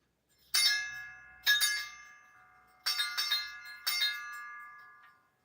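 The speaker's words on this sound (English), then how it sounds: "Let's see if we can do some bells on there." Sampled bells played on the Samplr app ring out in four separate bursts of bright, clanging strikes, each decaying with a shimmering tail before the next sounds.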